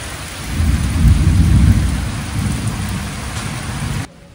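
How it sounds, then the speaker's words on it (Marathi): Steady heavy rain pours down with a dense, continuous hiss and a low rumble underneath, cutting off abruptly near the end. "आणि फायनली पाऊस पडायला लागलेला आहे."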